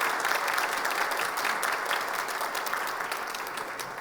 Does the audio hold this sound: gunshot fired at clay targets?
no